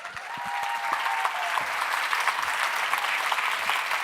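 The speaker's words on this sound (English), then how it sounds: "keep that applause going for our incredible youth delegates" Sustained audience applause from a summit crowd honoring youth delegates, dense steady clapping that swells in the first second and holds loud and even throughout, with no voices over it.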